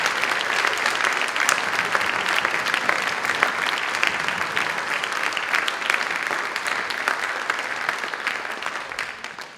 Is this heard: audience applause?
yes